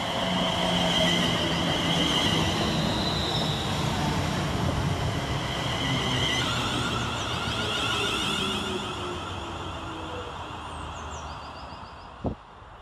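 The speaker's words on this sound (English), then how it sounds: "Next around the corner is 350-124, running 5 minutes late with the 1136 West Midlands Railway service from Wolverhampton" West Midlands Railway class 350 electric train, unit 350-124, running through Smethwick Galton Bridge station, with a long rumbling roll of wheels and bogies, faint squeals and hissing that fade gradually, then a single sharp clack near the end.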